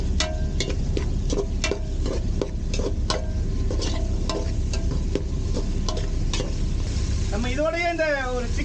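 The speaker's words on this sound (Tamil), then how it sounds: "இப்போ நம்ம வதக்கும் போது அந்த நன் மசாலா வந்து நண்டு எல்லாத்துலேயும் நல்லா சேர்ந்துடும்" Crab sautéing with ginger, garlic and chicken masala powder in a pan, a close continuous sizzle under repeated sharp taps and scrapes of a spatula, with a voice rising briefly at the end.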